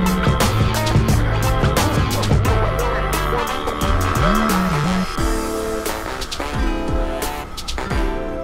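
A vehicle on an Indonesian road, heard as loud, close, continuous engine and road noise with revving and passing traffic, no talk.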